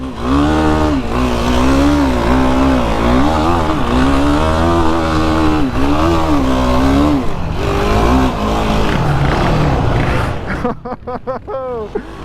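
A 2022 Yamaha sport ATV engine revving hard while riding off-road, the pitch climbing and dropping with throttle changes in loud, close bursts before cutting off near the end.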